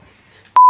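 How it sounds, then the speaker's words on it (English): A single sharp censor bleep, a steady pure tone that cuts in abruptly after a near-silent moment and holds loud for the final quarter second, bleeping out a word on a comedy podcast. "Think of all the beeping I'm going to have to do in this."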